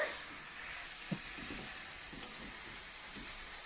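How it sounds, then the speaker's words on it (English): Garlic is stirred in a pan over a steady hiss of frying, with a few soft scrapes of the utensil, faint and close, and no one speaking. "so we're gonna stir together"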